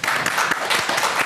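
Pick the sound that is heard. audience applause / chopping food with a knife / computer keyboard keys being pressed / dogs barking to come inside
audience applause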